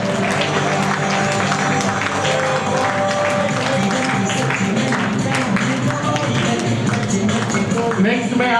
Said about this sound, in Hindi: प्लीज सर आप अजय सर से ट्रॉफी लीजिए और make a huge round of applause